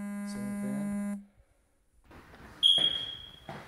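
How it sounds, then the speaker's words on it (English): A single high-pitched low-battery chirp from a smoke detector rings out in a quiet room, following a brief low electronic hum. "And we have to change the batteries in the smoke detectors."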